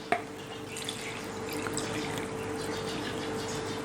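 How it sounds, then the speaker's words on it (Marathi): Water is poured from a pot into rice flour, a steady trickling splash after a small initial clink, continuing evenly at low volume. "प्रथम आपण याच भांड्याने पाणी घालूयात।"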